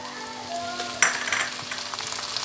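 Okra cooking with pomegranate seed powder, salt, red chilli and tomato in a pan, a steady close sizzle with a sharp stir scrape midway and continuous frying hiss, no talking.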